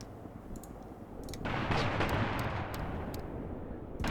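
Artillery and gunfire in the World War II tactics game Graviteam Tactics: a rumbling barrage swells up midway and stays loud, scattered sharp clicks and distant shots over it, with no talk.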